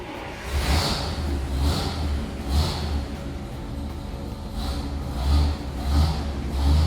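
A 1941 Buick Super 50 Phaeton convertible's engine runs steadily and smoothly at idle, with a low, continuous rumble and soft periodic swells, close by and without talk over it.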